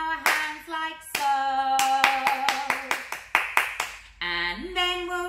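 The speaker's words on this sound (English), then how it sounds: "First we'll clap our hands like so." Hands clapping in time with a children's exercise song, a series of crisp, evenly spaced claps ringing out over sung melody and music, with a short sung passage before and after.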